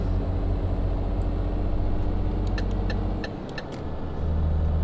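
A truck engine in Euro Truck Simulator 2 drones loudly and steadily while accelerating on the A1 motorway out of Paris, a heavy low rumble that dips briefly, with faint clicks before it swells again.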